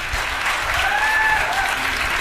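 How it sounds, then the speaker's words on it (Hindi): An audience at a Teachers' Day kavi sammelan (comic poetry gathering) claps steadily in a dense, continuous burst of applause. Faint whistle-like tones sound above it. "एक बार आप इन दोनों के सम्मान में तालियां बजा दें।"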